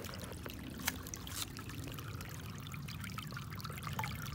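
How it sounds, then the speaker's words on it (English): Water flowing in a natural stream in autumn, a steady close rushing wash with small splashy gurgles and a couple of brief brighter spikes, no talk. "Look at that beautiful water flow"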